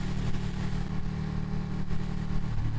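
A Ducati 959 Panigale demo bike holds a steady, loud engine drone while riding in sixth gear, with wind rumble and a slight shift in pitch near the end, and no talking.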